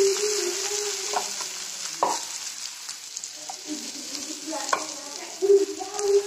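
Onions fry in an iron kadai while a spatula stirs them, a steady sizzle broken by scrapes and clinks, with a louder scrape near the end and no voices.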